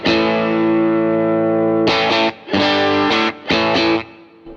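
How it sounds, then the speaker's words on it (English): Electric guitar through a Walrus ACS1 amp simulator with reverb: one sustained chord rings out, then several short chord stabs follow, each leaving a brief reverb tail. "So let's bring in a bit of reverb."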